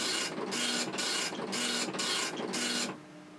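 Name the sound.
printer printing from a Tandy computer running SCRIPSIT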